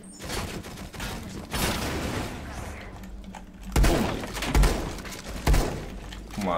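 Shotgun blasts in Rainbow Six Siege, several heavy booms with crashing debris amid dense gunfire, loud and close, with someone talking between the shots.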